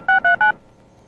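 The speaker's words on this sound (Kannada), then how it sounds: "ಗುರು ಅಣ್ಣನ್ಗೊಂದು ಫೋನ್ ಹಾಕುರು" Three quick dual-tone telephone keypad beeps sound in a steady rhythm while a number is dialed, then stop, leaving faint background noise.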